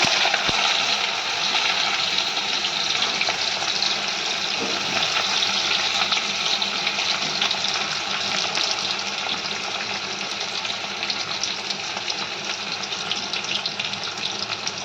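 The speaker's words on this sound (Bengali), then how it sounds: "আমার সর্ষে তেল দেওয়া হয়ে গেছে, গরম হয়ে গেছে। আমি এর মধ্যে বেশ খানিকটা পেঁয়াজ দিয়ে দেবো।" Onions crackle and sizzle steadily in hot mustard oil, a dense, even frying hiss that holds unbroken for the whole stretch.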